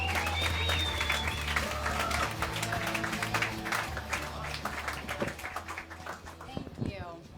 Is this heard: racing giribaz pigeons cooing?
no